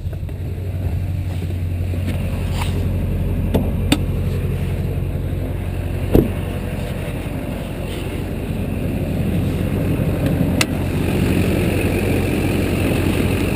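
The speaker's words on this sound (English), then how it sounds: "it does start right up and idle perfectly, and there are no lights on the dash" Duramax diesel engine in a 2004 Chevrolet pickup idling smoothly after starting, a steady low rumble with a few faint clicks, heard alone without talk.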